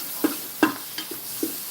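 Mushrooms cooking in a pan with garlic and onion, a steady hiss of sizzling broken by a few soft stirring scrapes and taps over less than two seconds.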